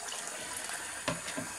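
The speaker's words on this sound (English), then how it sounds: "I'm just going to add a bit more liquid." Liquid splashes steadily into a cooking pan while beef stroganoff is being prepared, a soft, continuous watery trickle at a low level with a couple of faint knocks near the end.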